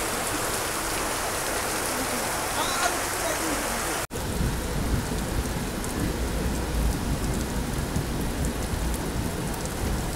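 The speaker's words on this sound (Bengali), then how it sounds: "প্রচুর বৃষ্টি পড়ছে তাই দেখাতে পারছি না ভালোভাবে" Heavy rain roars steadily and densely during an Agartala to Silchar train journey, broken only by a brief dropout partway through.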